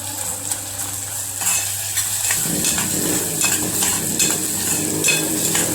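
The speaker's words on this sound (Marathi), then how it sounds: "आता लसूण टाकला, लसूण आणि थोडंसं आलं टाकू, चेचून घेतलाय मी लसूण।" Crushed garlic and a little ginger hit hot oil in a pan for a mixed vegetable dish, a broad steady sizzle that swells after a couple of seconds and carries on with light stirring scrapes, no talking.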